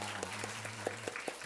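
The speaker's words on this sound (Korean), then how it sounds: "잠깐 일어나시면 박수로서 환영하도록 하겠습니다" A church congregation gathered for Sunday worship claps in welcome, a fairly faint and even spread of hand claps with a low steady hum underneath.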